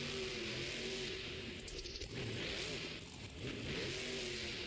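The Scooby-Doo monster truck at a Monster Jam event revs its engine in a sustained, rising and falling roar, faint and slightly distant, with no talking.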